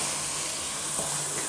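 Fried masala sizzling in a pan as tomatoes go in for a okra and onion dish, a steady close hiss with a faint scrape, no talk.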